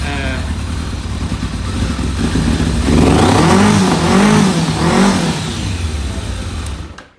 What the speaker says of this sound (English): So I'll fire it up, and it's going to fire up first time, I hope. Nice sound out of that Yoshi pipe